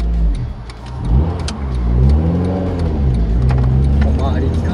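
A modified Honda FD2 Civic Type R with a changed air intake and catalytic converter revs up loudly and close by, its engine note rising and falling steadily throughout.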